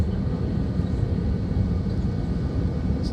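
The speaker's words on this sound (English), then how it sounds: "Oh, even that Southwest Airlines taking off." A Southwest Airlines airliner takes off, giving a steady, dense roar of jet engines that continues without a break for a few seconds.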